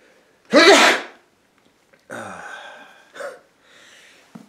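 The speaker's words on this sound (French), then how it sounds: "Je vais éternuer." A single loud, close sneeze bursts out sharply, followed by a few softer breathy sounds and sniffles in a quiet room.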